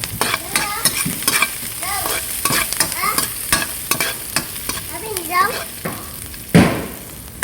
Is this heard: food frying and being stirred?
yes